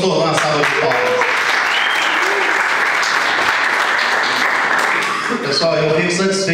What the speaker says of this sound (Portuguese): Quem gostou, dá uma salva de palmas.